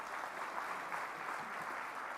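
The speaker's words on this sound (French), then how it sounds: "Je vous demande de les applaudir très très fort." A hall full of conference delegates at a Pan-African Red Cross conference in Abidjan applauds a visiting delegation, producing steady, dense clapping throughout the short stretch at an even, moderately loud level.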